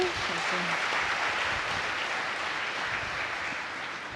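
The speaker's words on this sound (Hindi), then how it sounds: "खड़े होके एक्नॉलेज तो करो, सब ताली बजा करके" An audience claps for the team behind the Om Shanti Retreat Centre ORC project, a steady dense wash of applause filling the hall throughout, with faint voices underneath.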